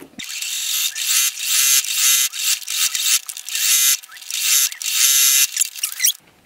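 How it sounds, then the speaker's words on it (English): A sewing machine runs in repeated bursts of fast, buzzing stitching through jacket fabric, stopping and restarting several times, loud and close with no voices. "I'll sew it one more time"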